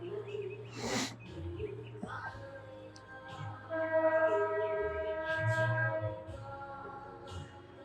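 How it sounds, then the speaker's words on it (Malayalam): Amid misty hills, a toy train sounds a drawn-out, sustained horn or whistle tone through the middle of the scene, fairly faint and distant, with birds and quiet background noise around it. "ടോയ് ട്രെയിൻ അവർ പാസ് ചെയ്ത് വരുന്നുണ്ട്."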